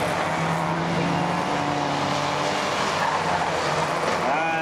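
Ministox race cars roar around a stadium oval at Mildenhall in a continuous loud engine drone with shifting pitch as they pass, and a commentator's voice may sit faintly under the noise.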